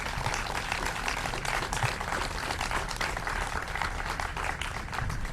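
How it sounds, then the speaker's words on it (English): Scattered audience applause at the Edie Windsor Heart ribbon-cutting ceremony, a soft, even patter of many hands clapping that continues for several seconds at a moderate distance. "let's do a round of applause for Edie and the platform"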